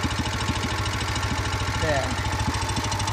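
Wheel Horse C-81 garden tractor engine running steadily up close with an even, throbbing idle, while a person says a brief word over it.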